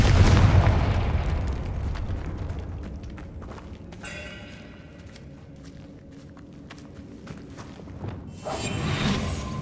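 A Confringo blasting spell bursts in Hogwarts Legacy with a loud, booming explosion at the start that rumbles away, followed by quieter footsteps and clatter, and a fresh whooshing burst near the end.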